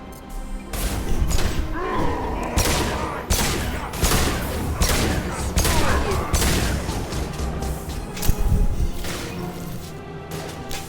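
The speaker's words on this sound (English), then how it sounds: "I love this pistol. The phalanx." Phalanx pistol gunfire in a Mass Effect 2 Legendary Edition firefight: loud, sharp shots fired in irregular bursts for about eleven seconds, mixed with crashes, impacts and battle noise.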